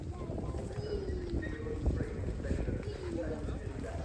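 A horse gallops past at the Bramham horse trials cross-country course, hooves drumming in a rapid rhythm under wind noise and nearby chatter from spectators.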